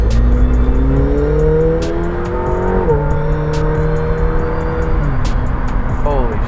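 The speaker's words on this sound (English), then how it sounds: "the exhaust sounds incredible even when you're inside the cockpit" A McLaren 720S engine and exhaust roar loudly during a launch, heard from inside the cockpit as the revs climb through several rising gear pulls with shifts between them, plus clicking sounds.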